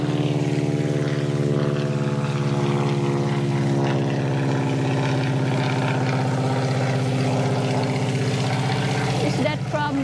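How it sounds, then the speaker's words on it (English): Biplane propeller aircraft flying overhead, a steady loud droning engine hum that holds throughout, with people talking faintly beneath it. "It'd be more like World War I if it's a biplane."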